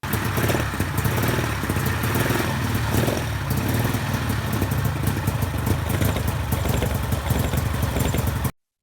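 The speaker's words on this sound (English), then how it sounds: "When I open the throttle on each carb, it's very evident the top carburetor has a problem." An engine on a homemade helicopter runs close and loud with a steady, buzzy drone as the throttle is opened on each carburetor, the top carburetor faulty, then cuts off abruptly.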